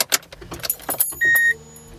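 Car keys jangle in a burst of metallic clinks as the ignition is turned in an electric car, followed by a short steady electronic beep and nearly no motor noise.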